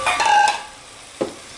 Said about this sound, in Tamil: மட்டன் சேர்த்துட்டு நல்லா அந்த மசாலாவில் ஒன்றா மிக்ஸ் ஆகிற மாதிரி நல்லா வதக்கி விடணும்.